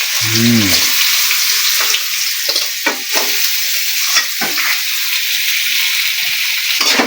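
Loud, close sizzle and bubbling as boiled olives go into hot oil with ginger paste and spices for olive pickle, followed by steady frying with scraping stirs and small crackles.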